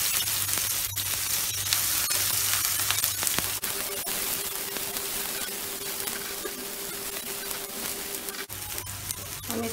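Finely chopped medium onion frying on a high gas flame for a dhaba-style chole, a steady close hissing sizzle with a low hum underneath and occasional clicks, no talking.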